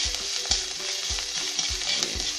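Thai red curry paste stir-fried in oil for a pork stir-fry sizzles loudly and continuously, with a regular rhythm of spatula strokes scraping the pan about twice a second.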